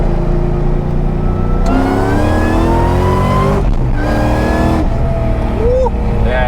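An 800hp Ford SVT Terminator Cobra on 315 Toyo Proxes TQ drag radials accelerates hard, its engine note climbing through steady rising pulls with brief shift breaks, loud and continuous from inside the car.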